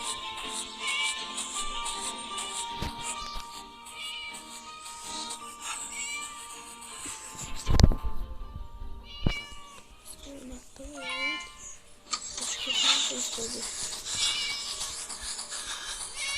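Cat meows in the game Scary Teacher 3D, several short mewing calls among electronic game music and effects, with a person talking over them.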